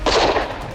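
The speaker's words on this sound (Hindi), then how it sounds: "ये तो गोली की आवाज थी ना।" A single gunshot in a Hindi TV drama scene, a short loud burst with a brief decaying tail, heard alone.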